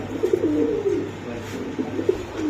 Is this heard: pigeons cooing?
yes